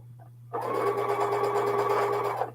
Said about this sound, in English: you can hear the machine going a little slower and then stopping as I approach that seam